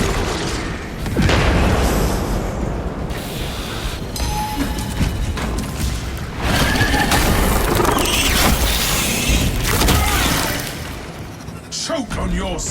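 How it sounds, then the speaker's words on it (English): Crack grenade detonation in Warhammer 40000: Space Marine 2, a loud booming blast with a burst of debris among dense combat noise, repeated swells of heavy rumble through the clip. "Deploying crack grenade."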